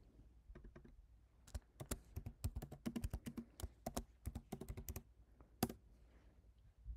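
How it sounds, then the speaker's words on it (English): Typing on a computer keyboard: a quick, irregular run of close, crisp key taps over several seconds, with no talking. "in cell C1, we are going to type in team 2 score"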